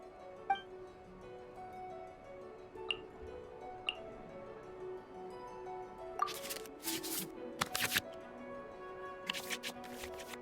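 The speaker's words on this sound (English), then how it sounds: "we can select any number of cards in our hand to shuffle back into the draw pile" Card shuffling in the Genius Invokation TCG digital card game: soft ticks and chimes, then quick bursts of crisp, bright swishes as cards return to the draw pile, quiet and without speech.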